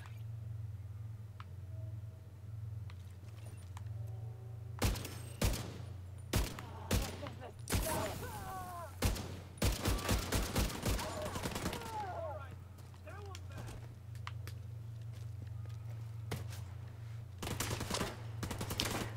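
Bursts of rapid automatic gunfire firing shock rounds in The Division 2, clustered loud volleys mid-clip over a steady low game hum, with scattered single shots and some talk.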